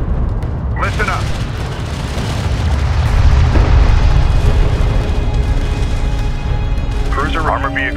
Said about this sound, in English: Cruiser armor vehicle taking effective fire.